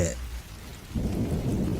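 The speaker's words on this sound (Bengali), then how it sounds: "দেখছো না কেমন বৃষ্টি পড়তে শুরু করেছে" Rain falls with thunder, a brief patter that gives way to a swelling low rumble in the last second, heard alone and close.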